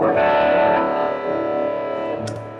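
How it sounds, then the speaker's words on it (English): A short burst of electric guitar with a gritty, lightly overdriven tone, chords ringing and fading over a couple of seconds. "This is the crunch sound."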